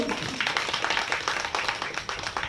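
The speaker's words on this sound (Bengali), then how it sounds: "তার জন্য একটা বড় হাততালি হোক" A theatre audience applauds an actor after a stage performance, with dense, steady clapping from many hands that fills the whole stretch at close range.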